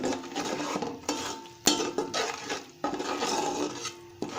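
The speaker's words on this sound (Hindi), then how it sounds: "तो ये सारी चीज़ों के साथ इसको बहुत अच्छे से हम भूनेंगे" Whole cumin and masala roasting in a pan for matar pulao, a soft dry sizzle under repeated scraping and knocking of a spoon against the pan, several sharper clinks, close and fairly quiet.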